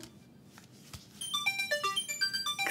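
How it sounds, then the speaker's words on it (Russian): A mobile phone ringtone sounds in a scene from a 2016 melodrama: a bright, beeping melodic tune breaks in after a quiet second and repeats loudly, close by. "Кстати, Дэн звонит."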